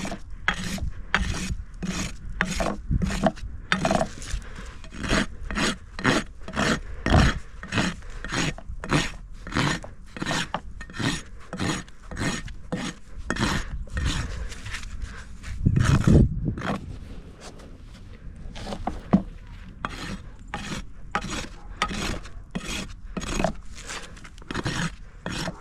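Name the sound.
rasp filing and beveling a horse's hoof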